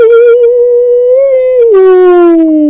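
A human voice imitates a long, wavering howl, loud and close, holding a steady pitch before dropping lower at the end.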